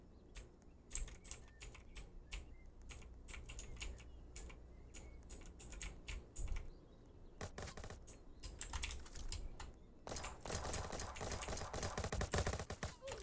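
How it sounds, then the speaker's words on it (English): Gunfire in the Roblox game Jailbreak: rapid clicky bursts of shots with short gaps between them, turning into a denser, sustained volley near the end. "How are they shooting through that?"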